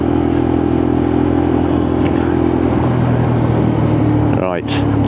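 A Lexmoto LXR SE motorcycle engine running steadily close by during a test ride, with someone talking over it and a quick rev near the end.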